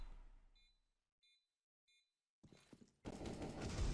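Video game gunfire during a 9Z versus FURIA esports match at the Roobet Cup: a few short electronic beeps, then a loud, dense burst of shots that builds and runs to the end.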